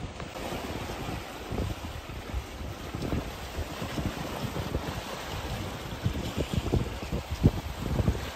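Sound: sailboat sailing in the wind

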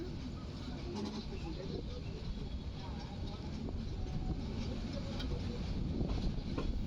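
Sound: Rangpur Express train running on rails

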